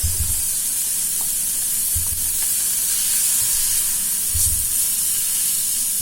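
Green peppers and carrots sizzle steadily in a hot wok with chicken, a constant hiss with a few low stirring knocks, close and alone.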